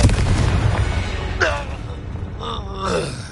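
The Confringo blast spell lands in the Hogwarts Legacy video game, a heavy boom with a rumbling tail opening the stretch, followed by short whooshing magical bursts while a character speaks over the effects.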